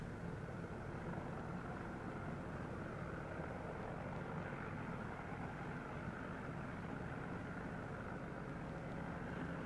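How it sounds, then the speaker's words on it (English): Propeller training airplane of 1941 New Zealand flight training getting ready for its first takeoff, a steady droning engine and propeller roar at moderate distance, unchanging throughout, with no speech. "And now comes the big thrill, the first takeoff."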